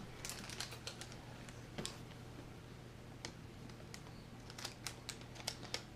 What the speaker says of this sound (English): Then you're going to need scissors.